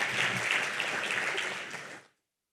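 An audience claps together at a higher-education policy summit, a dense, steady wash of applause that holds evenly for about two seconds and then cuts off abruptly.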